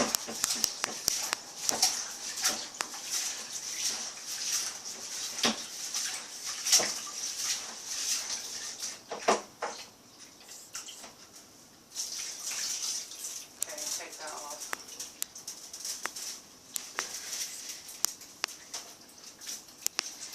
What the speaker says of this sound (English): I'm just going to wash the rice for the last time now.